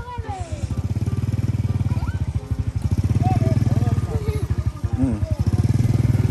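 A motorcycle engine revs hard again and again in rapid, pulsing bursts, loud and close, while voices call out over it.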